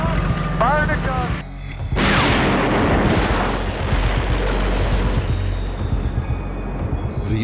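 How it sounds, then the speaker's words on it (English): A tank's main gun fires with a massive boom that rolls into a long, roaring blast and rumbling aftermath, following a brief shouted command and mechanical noise just before. "Fire the gun!"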